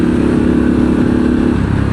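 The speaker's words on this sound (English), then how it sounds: "you put it in sport mode, you ride for a little bit, pull in on the clutch and go" A 2023 Harley-Davidson Pan America Special motorcycle in sport mode launches off the clutch, its engine giving a loud, close, sustained throbbing roar with a steady pulsing note throughout.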